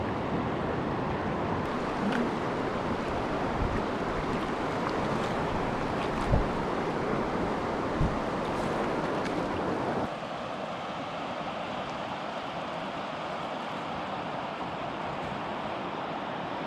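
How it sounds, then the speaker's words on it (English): Whitewater of Lloyd Rapids on a canoe route runs as a loud, continuous broadband rush, near and steady, with a few thumps and a drop in level partway through, no talking. "there's a shot of the Lloyd Rapids"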